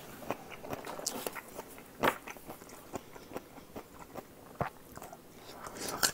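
Close, crunchy chewing and biting of carrot during a meal, with repeated sharp crisp bites and softer mastication between them, fairly quiet and without speech.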